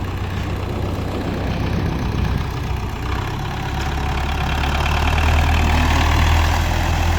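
A 2004 MTZ-82.1 tractor in good working condition idles steadily nearby with a low, throbbing diesel rumble that grows slightly louder toward the end.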